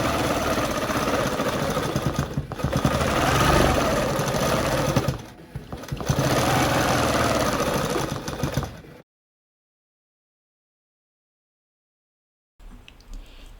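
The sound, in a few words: ProStitcher longarm quilting machine stitching a recorded pattern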